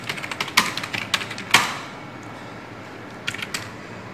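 Fingers type a name on a computer keyboard, with quick clusters of sharp close key clicks, a pause of about a second, then a few more taps near the end.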